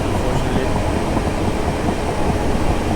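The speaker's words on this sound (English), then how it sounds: "This train doesn't have very good acceleration" A train in Train Simulator 2018 accelerates slowly between Guildford and London Waterloo, giving a loud continuous low rumble and rolling drone with steady rail noise throughout.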